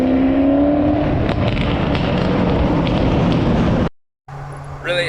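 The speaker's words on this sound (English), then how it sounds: "sound of a Fox body" A Fox body Ford coupe's exhaust roars loudly up close under acceleration with crackling pops, then cuts out abruptly to brief silence before a quieter idle and a rising whine return.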